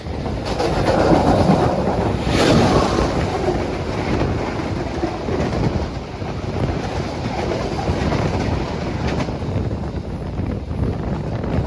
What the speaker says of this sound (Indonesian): kita akan berpapasan dengan kereta api Ranggajati teman-teman, yang diberangkatkan dari stasiun Cirebon menuju ke Jember.